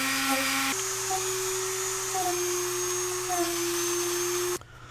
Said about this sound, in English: then I'm going to come back in with the ceramic wheel and do some deep scratches and nicks